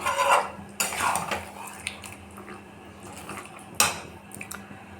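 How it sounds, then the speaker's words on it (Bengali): Marinated chicken pieces going into hot oil in a pan and stirred, with sharp metallic clanks of a utensil against the pan over a low sizzle, a few scattered knocks and scrapes. "এই মুহূর্তে আমি ম্যারিনেট করা মাংসটা এর মধ্যে আস্তে আস্তে দিয়ে দিচ্ছি।"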